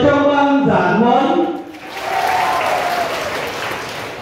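An audience at a catechist training opening ceremony applauds, a broad wash of clapping that rises after a voice speaks over a microphone, then continues steadily.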